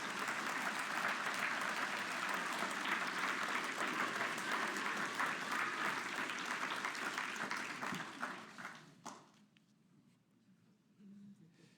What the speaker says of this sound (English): let's have one more round of applause for your newest Army National Guard R&R NCOs.